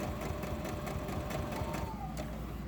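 A sewing machine runs softly while joining scrappy cotton and lace fabric blocks, its needle producing a quick, even, rhythmic clatter that continues throughout at a fairly low level.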